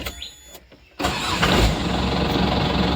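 A vehicle engine starts early in the morning before a trip out for borewell motor removal work: a quiet lull, then a sharp crank that catches and settles into a loud, steady running rumble close by.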